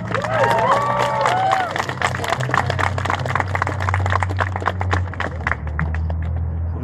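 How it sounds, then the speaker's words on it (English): Crowd applause and cheering at a rally, dense and loud with overlapping claps and voices, sustained throughout and tapering slightly toward the end. "One more time, a round of applause,"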